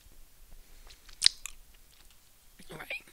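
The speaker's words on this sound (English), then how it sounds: "I am chewing gum, if you can hear me chewing" Someone chews gum close to the microphone, giving faint wet, smacking mouth sounds, with one sharp click and a quiet stretch of breathy noise near the end.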